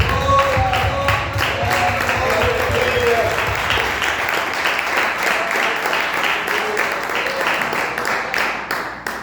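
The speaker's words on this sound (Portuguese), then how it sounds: "Os irmãos podem se sentar, aplaudir o nome do Senhor." A church congregation claps together, loud and dense, then settles into a more rhythmic, steady beat of many hands, with some voices mixed in.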